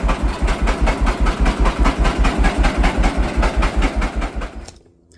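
A John Deere AR tractor engine chugs in a steady, fast rhythmic beat of low thumps, close and loud, with a slightly sputtering edge, then cuts off and falls silent near the end.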